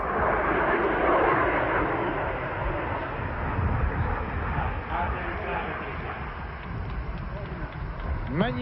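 A Concorde supersonic airliner roars loudly, the noise rumbling and slowly fading as it touches down, with a faint voice near the end.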